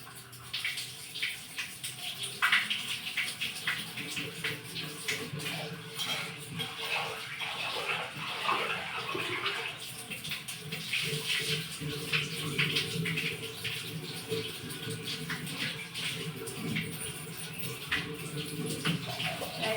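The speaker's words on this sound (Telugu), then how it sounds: "రైస్ అయితే కడుగుతూ ఉన్నాను" Water sloshes and splashes in a container as rice is swirled and rinsed, with irregular bursts of pouring and trickling nearby.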